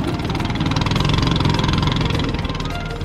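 A small river tour boat's engine runs on a river in Tanjung Puting, Borneo, a steady, close, droning motor hum that continues unbroken with no talking.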